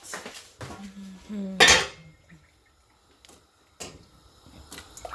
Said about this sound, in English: Put it in the pot.